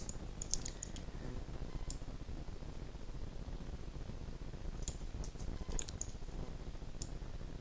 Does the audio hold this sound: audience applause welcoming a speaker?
no